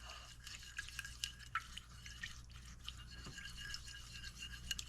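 Salt and pepper are stirred into a barbecue chicken bowl mixture, with soft, close scraping and wet clicking strokes over a faint background hum.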